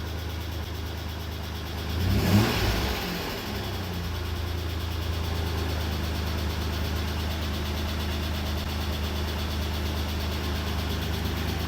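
An Isuzu Trooper engine idles quietly, then is revved once in a short, sharp rise and fall before settling back to a steady low idle.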